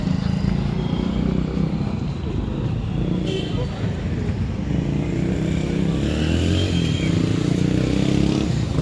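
Loud, steady engine roar of motorcycles passing close by during the Shaheedi Sabha procession at Fatehgarh Sahib, Sirhind, with crowd chatter mixed into the constant traffic noise.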